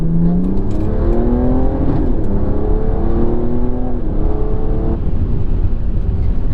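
Loud in-cabin drone of a stage 3 tuned BMW 330D F30 diesel accelerating, engine pitch climbing through gear changes with rising harmonic sweeps, steady and close with no talk.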